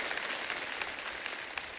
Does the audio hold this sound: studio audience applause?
yes